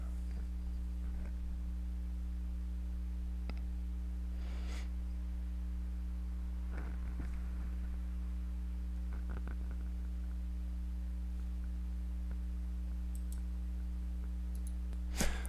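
Computer mouse clicks tap out sparsely and faintly, single sharp clicks spaced a second or more apart over a steady electrical hum.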